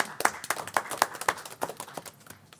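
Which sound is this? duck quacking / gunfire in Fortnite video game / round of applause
round of applause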